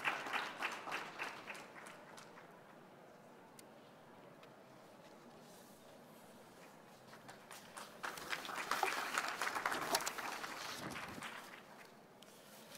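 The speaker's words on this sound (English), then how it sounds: "please give them a round of applause, please, as they come" An audience at a UN COP26 energy event applauds panelists as they come up, a quiet, distant patter of clapping that rises briefly before fading.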